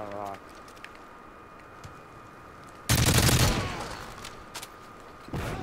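Burst of rapid automatic gunfire in a 2v2 shooter video game match, loud and dense for about a second and a half before tapering, with a few sharp single shots afterward and game ambience around it.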